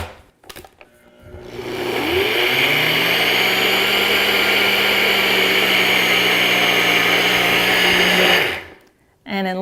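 A NutriBullet blender grinds three cups of oats into flour, a loud steady whirring drone held for about seven seconds before cutting off, with brief clatter of the cup at start and end.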